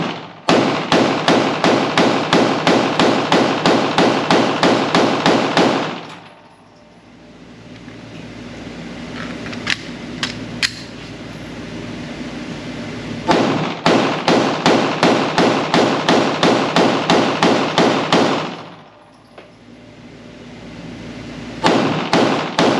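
Steyr Arms L9-A2 MF pistol with triangular sights fired in two rapid strings of sharp, evenly spaced shots, each lasting several seconds, separated by a quieter pause with faint clicks and handling noise.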